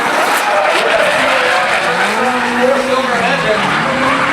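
A four-cylinder race car engine screams loud and close as tires squeal on brand new Nitto NT555 G2 tires, its pitch rising and falling through continuous skidding.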